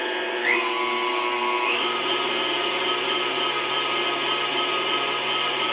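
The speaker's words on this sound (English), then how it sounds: "I'm going to turn on my mixer." An electric sausage mixer runs with venison loaded in its hopper, a loud, steady motor whir with a rising pitch as it spins up, then holding a constant mechanical drone throughout.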